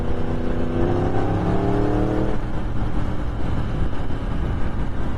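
A Yamaha R1 superbike with a roughly 200 bhp engine accelerating, its rising tone climbing through a gear before a shift, then a steady loud drone of engine and wind close by.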